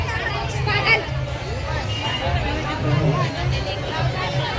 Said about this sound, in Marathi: इथे भरपूर गर्दी आहे, किती गर्दी आहे, खूप लोक आलेले आहेत